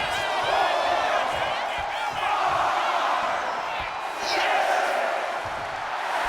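Roaring arena crowd in the WWE 2K25 wrestling game, during an Undertaker showmanship moment against Brock Lesnar, a loud sustained cheer and whoops that swell again near the end, with an announcer talking over it.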